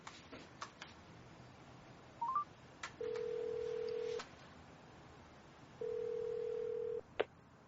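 A phone call being placed: a few short key tones, then two long steady ringback tones separated by a pause, with a soft click at the end over a quiet room.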